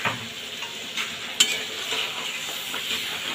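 Fish with spices being stirred in a pan, a Bengali dish with note data greens, gives close scraping stir strokes over a soft sizzle, with a sharp utensil knock near the middle and no talking.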